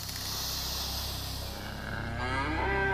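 A cow on a British farm gives a loud, drawn-out moo close by, its voice rising into a long bellow toward the end, with no talk over it.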